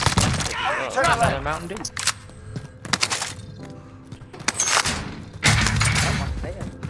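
Mac-10 submachine gun fire in Call of Duty: Warzone: sharp broadband bursts and crackling volleys come in clusters, with a voice talking over and between the shots.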